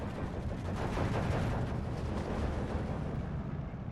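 Bombs in Steel Division 2 multiplayer combat rumble in a dense, continuous wash of distant explosions and gunfire, steady and moderately loud throughout.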